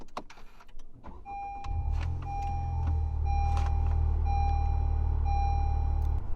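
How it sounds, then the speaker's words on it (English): A 2018 Honda Civic Type R Touring with a manual gearbox, started by push button: a short starter whirr catches into a steady, close idle rumble, with a chime tone sounding repeatedly over it. "put your foot on the clutch and press the start button to go"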